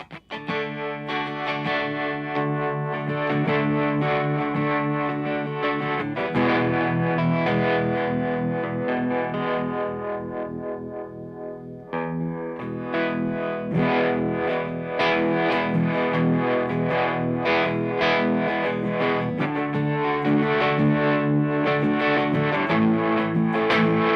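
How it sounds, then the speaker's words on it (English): Electric guitar played through a Strymon Flint pedal's warbly vibe effect, giving continuous wavering, phasey chords and riffs at steady loudness with short pauses between phrases. "So that has kind of a phasery, goopy, warbly sound to it."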